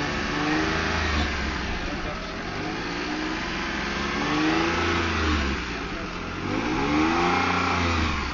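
A car engine revs under load at a driving lesson, swelling and easing in a steady mid-pitched drone that sits close and fairly loud, with low rumble throughout and voices talking over it.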